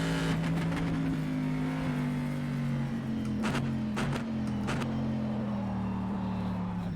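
A Le Mans 2017 race car engine in rFactor 2 holds a loud, steady high drone, stuttering against the rev limiter with a few sharp cuts and pops, no voices.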